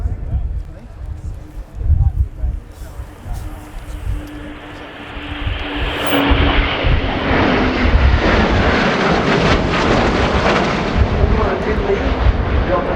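Formation of NATO military aircraft making a flypast at the RIAT airshow, swelling into a loud, broad jet roar that builds and holds overhead, with a public-address commentator talking over it.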